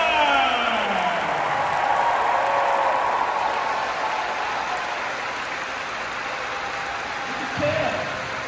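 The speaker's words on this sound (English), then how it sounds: "gentlemen, please show your applause for our University of Wisconsin alumni." Applause from a concert audience for university marching band alumni at a spring concert, a broad steady roar of clapping in a large hall that fades gradually, with voices under it.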